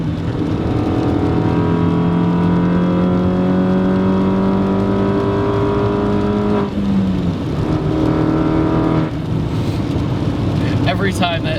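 Turbocharged Mini Cooper S on Megan Racing coilovers accelerates hard, its engine note climbing steadily in pitch before the throttle lifts and the diverter valve releases with a quick whoosh, followed by a further brief rev and shift.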